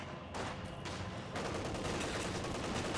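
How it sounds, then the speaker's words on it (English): Dense, continuous rifle fire from Jaeger infantry in a strategy war game, a steady crackle of overlapping shots and volleys, loud and unbroken. "Jaeger infantry firing away."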